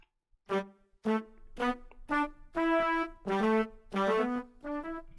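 A simple melody played on a keyboard, eight or so separate notes stepping through a pentatonic scale at an even pace, clear and close with no voices.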